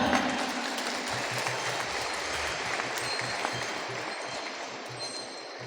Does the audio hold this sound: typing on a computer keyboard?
no